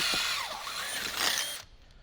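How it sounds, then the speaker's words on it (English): A power drill bores a hole through a panel during a Jeep JL speaker installation, its motor whining steadily up close for about a second and a half before cutting off abruptly. "So go ahead and drill that."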